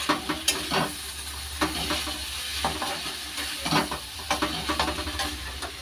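Grated garlic sizzling and frying in oil in a pan, with steady close crackling and hiss plus occasional stirring scrapes, no talk.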